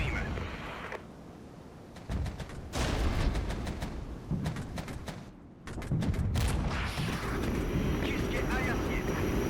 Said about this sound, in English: That enemy aircraft coming in as well. Harriers attacking us.